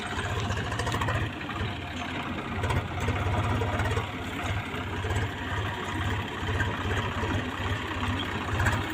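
A Swaraj tractor engine chugs steadily nearby, a low rhythmic diesel throb that runs unbroken throughout without speech.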